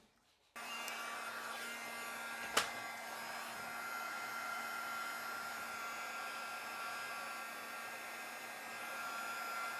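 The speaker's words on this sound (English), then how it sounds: "Start my gun so it gets warm." A heat embossing gun starts up and runs as a continuous loud whirring blow with a steady hum, joined by a single sharp click early on.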